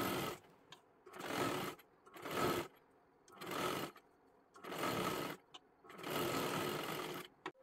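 Sewing machine stitching a blouse, running a half-inch seam along the back strip, in six steady whirring bursts of about a second each with short quiet pauses between them.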